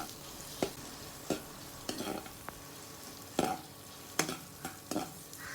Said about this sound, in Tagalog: nung nagmantika ng ating karne, nilagay na natin yung ating bawang at sibuyas